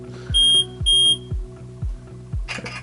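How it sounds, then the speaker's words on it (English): An Odyssey desktop text-to-speech reader sounds two sharp, bright electronic beeps close together near the start, above a low repeating mechanical pulse, and a short rustle follows at the end. "Beep, take the picture."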